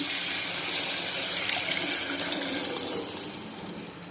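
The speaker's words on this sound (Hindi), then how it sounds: "अब हम इसके अंदर उबले हुए चने ऐड करेंगे।" A continuous rush of boiled chickpeas and their cooking water pours into a pan, loud and close, easing off slightly toward the end.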